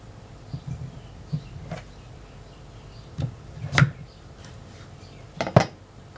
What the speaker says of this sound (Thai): เราหั่นเป็นท่อนๆนะครับ